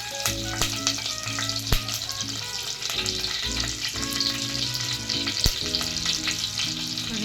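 Cumin seeds, curry leaves and asafoetida sizzle loudly in hot oil, a dense continuous frying hiss with sharp crackles and pops over a low steady hum, heard up close with no talk.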